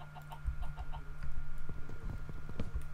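Chicken clucking in Minecraft, short repeated clucks over a steady low game hum, with small scattered clicks and footsteps; fairly near and moderately loud, no talking.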